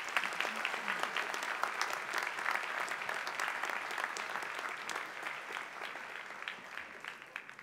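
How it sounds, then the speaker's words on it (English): A graduation audience applauds the Wharton MBA for Executives professors at a Philadelphia ceremony, a steady, dense roll of many hands clapping at close range. The applause holds level for several seconds, then eases slightly toward the end with no speech over it. "a round of applause for all the Wharton professors"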